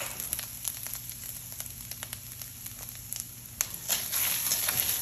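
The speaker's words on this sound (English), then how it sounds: "add in the garlic as well. Give a quick stir here." Garlic sizzling in a hot pan with ginger over medium heat, stirred for Chinese chicken and broccoli: a continuous crackling sizzle with scattered sharp pops and scraping, swelling louder near the end.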